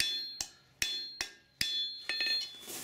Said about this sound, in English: you're hammering, just drawing out that heel